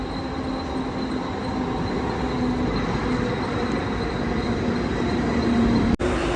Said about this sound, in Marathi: पोचलोय आपण बेलापूर रेल्वे स्टेशनजवळ आणि आपण द्रोणागिरी स्टेशनवरून तीन पाचची ट्रेन पकडली होती